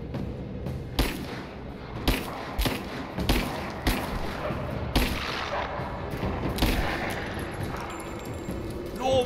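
Pistol fire in the video game Rise of the Tomb Raider, set in a snowy cave: a series of sharp shots spaced about a second apart over a dense rumbling game backdrop, loud and close.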